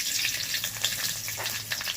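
Whole garlic cloves and whole garam masala frying in oil, a dense continuous crackling sizzle with small popping bursts, close and steady throughout.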